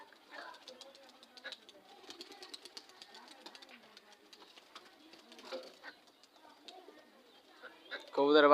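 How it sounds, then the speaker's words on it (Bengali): Domestic pigeons coo softly and repeatedly outdoors after their young birds are released to fly, with voices murmuring alongside and a louder burst of sound right at the end. "আজকে কবুতরের বাচ্চাগুলো সব ছাড়লাম, কবুতরগুলো সব উড়ালাম"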